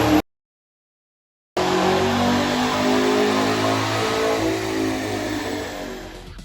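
A 6th-gen Chevrolet Camaro SS V8 with stainless headers and stock exhaust revs after a short silence, then holds a loud, sustained engine roar close by for several seconds.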